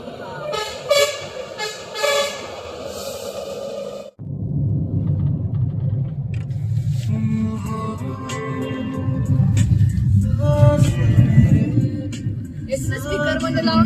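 A Toyota Innova drives along a road. A few bright, tonal honks come first, then a steady, close engine and road rumble from inside the cabin, with some talking.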